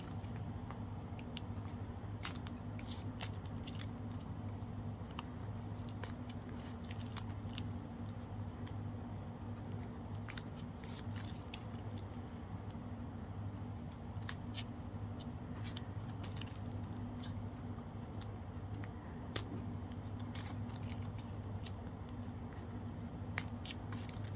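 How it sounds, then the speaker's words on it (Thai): Small scissors snipping ribbon ends on a handmade ribbon flower, sharp little clicks scattered irregularly over a constant low electrical hum, close and fairly quiet. "เสร็จแล้วเราก็ตัดปลายริบบิ้นทิ้งค่ะ"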